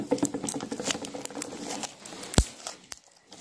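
Sticky, wet squelching and crackling from Elmer's glitter glue slime being squished by hand, a dense run of close popping patters followed by a sharp snap and quieter fading squishes, with no talking.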